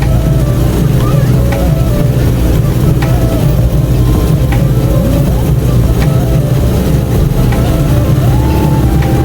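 Steady, loud motorcycle engine drone with rumbling low tones throughout, ridden off-road in Nepal, with wind buffeting the microphone.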